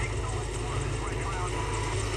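A helicopter in the video game Prototype gives off a continuous dense rotor and engine roar across the whole moment, steady and close, with a voice speaking over it.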